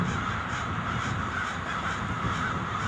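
Crows caw repeatedly in a loud, dense chorus, overlapping harsh calls continuing steadily without any talking.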